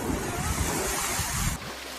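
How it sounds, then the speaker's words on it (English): A character in Kena: Bridge of Spirits plunges into water, a loud rushing wash of splashing that fills the first second and a half, then cuts to a quieter watery ambience. "Didn't mean to jump into the water, little froggies."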